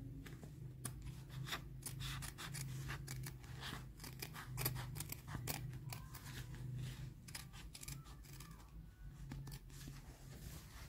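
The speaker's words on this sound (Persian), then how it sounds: "حالا با قیچی این وسط رو قیچی میکنیم." Sharp scissors snip through fabric interfacing for a sewn pocket, giving a steady run of close, crisp cuts that repeat for about eleven seconds over a low constant hum.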